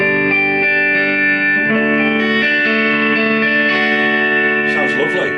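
A clean 1989 Japanese Fender Stratocaster electric guitar with a warm, round neck-pickup tone through a lightly driven tube amp, sustained chords ringing and overlapping with a touch of reverb.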